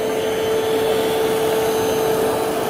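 A Hoover H-Free lightweight cyclonic vacuum cleaner runs continuously with a steady whine and airy rush, close and even in level, with no talking.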